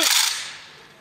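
A single sharp rifle crack from an honour salute volley at an outdoor May 3rd ceremony by a monument in Radymno, Poland, loud and decaying quickly with a brief echo.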